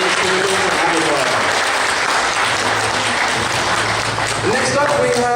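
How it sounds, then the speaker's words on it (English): Loud, sustained crowd applause fills a costume contest at Kraken Con 2014, with scattered cheers and voices mixed into the dense clapping throughout. "one more round of applause for Navi Hunter from James Cameron's Avatar"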